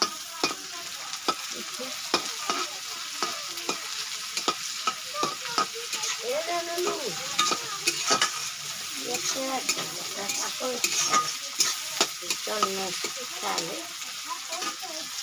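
Potatoes frying with onions in a pan, a loud, continuous sizzle broken by frequent sharp scraping strokes of a spatula, up close, with a voice talking softly now and then underneath.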